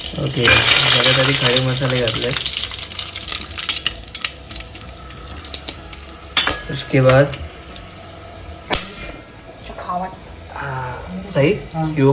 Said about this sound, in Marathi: कांदा कढीपत्त्याची छान फोडणी आपल्याला परतवून घ्यायची मस्त